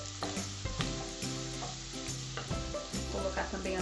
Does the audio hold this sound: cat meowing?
no